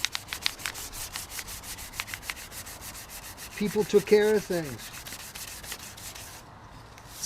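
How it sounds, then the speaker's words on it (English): Steady rhythmic rubbing strokes of sanding on wooden axe handles, repeated many times, with someone speaking briefly over the scraping. "I'm finishing up sanding on these."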